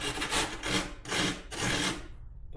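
Foam is shaved with a small grater-like rasp in three long, steady scraping strokes, close up and moderately quiet, with no voices.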